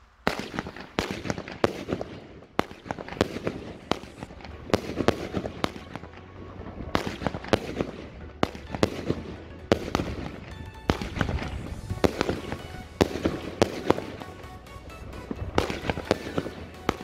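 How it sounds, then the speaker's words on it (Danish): An Exclusive 25-shot Yorker firework battery fires a long sequence of loud cracking bursts in quick irregular rhythm, shot after shot, close and sharp with echoing tails. "vi tager det her Exclusive 5 Collection Yorker batteri. Exclusive 25 skud."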